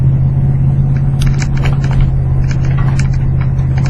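A wood-gas powered truck labouring up a steep highway upgrade, a steady loud engine drone and low road rumble heard from inside the cab, continuous and unbroken with no talking.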